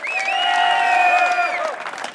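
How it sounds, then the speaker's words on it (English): Audience applause with a loud, sustained cheering whistle or whoop on top, from a crowd at a 2016 Michigan marijuana legalization petition drive kick-off rally; the clapping is close and continuous for about two seconds before fading. "Folks, one more round of applause for the MILegalize Board of Directors members."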